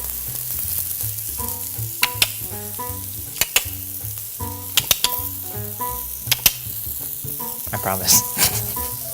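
Pork sausage patties sizzle on a breakfast griddle with a steady frying hiss, broken by a few sharp clicks and scrapes, under background music and a brief spoken line.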